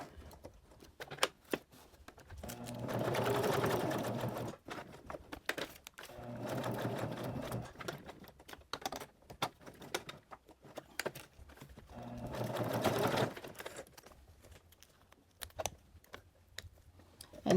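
A sewing machine stitches Velcro onto a magnetic wrist cuff, running slowly in three sustained bursts with pauses between, close and steady, each run lasting a few seconds.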